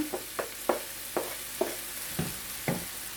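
Garlic and ginger frying in a pan for a vegan jackfruit stew, with a steady soft sizzle under about eight sharp stirring scrapes spaced roughly evenly, close up.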